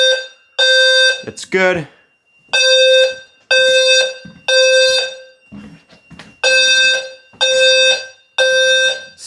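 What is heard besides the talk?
smoke detector fire alarm sounding during system test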